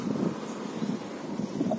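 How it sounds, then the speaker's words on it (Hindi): Strong, gusty wind roars steadily past the microphone on a quiet Bahrain road, a dense low rumble of buffeting with no break. "हवा बहुत तेज चल रही है यहाँ पे, ऐसा लग रहा है आंधी आ रही है"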